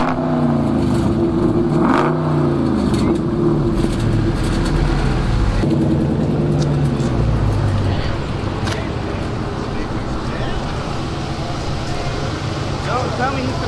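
A car engine revving at a car meet, loud and sustained with rising and falling pitch, under people talking and crowd noise throughout.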